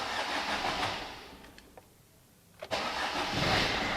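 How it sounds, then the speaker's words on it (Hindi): A car engine with a freshly changed oil filter cranks and fires up cold in a single long crank, then settles into a steady idle rumble close by. "अभी आप देखिएगा सिंगल क्रैंक में गाड़ी स्टार्ट होगी नहीं होगी"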